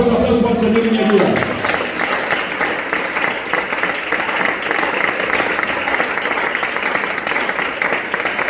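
A church congregation bursts into sustained applause, a dense, steady wash of clapping that continues at full strength, preceded by a brief voice at the start.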